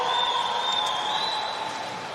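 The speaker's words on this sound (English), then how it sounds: "Let's give a round of applause" An audience applauds at a New Zealand national swimming championships, a continuous wash of clapping in a large echoing pool venue that holds steady and then slowly fades.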